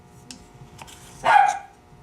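A single sharp bark from Shotzi, a pet dog in a ceramics studio, rings out close and loud amid faint workshop clatter, with quiet stretches before and after.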